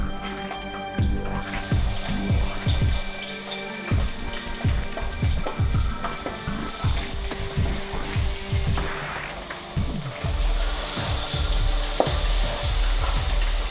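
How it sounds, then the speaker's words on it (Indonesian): Fish sizzles and crackles steadily in hot cooking oil, with dense spattering pops and a few clinks of a utensil throughout, loud and close with no talking. "Oke, aku goreng ikannya."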